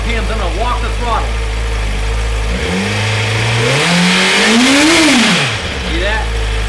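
A 2017 Suzuki GSX-R1000R sportbike engine, warming up unloaded at about 1,700 RPM, revs smoothly from a steady idle up to a loud peak and falls back, close and continuous.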